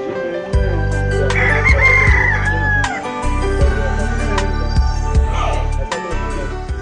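A rooster crows loudly while traditional free-roaming hens cluck nearby in a yard, with a steady low hum underneath and a few sharp knocks.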